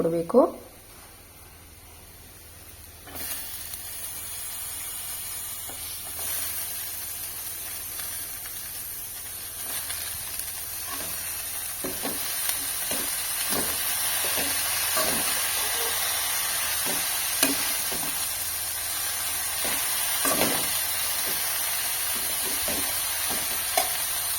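Grated coconut and leafy greens frying in a pan for a Coorg-style suruli soppu palya, with a steady sizzle and hiss and occasional stirring clatters running close and continuous throughout.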